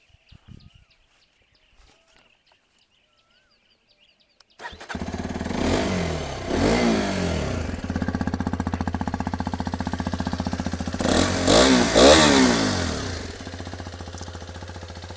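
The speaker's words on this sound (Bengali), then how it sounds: "এটা হচ্ছে এক্সপালসের এক্সস্টের সাউন্ড।" A 2025 Hero Xpulse 210 motorcycle fires up after near silence, its exhaust settling into a steady idle, then revved in a few sharp bursts before dropping back to a loud, close idle.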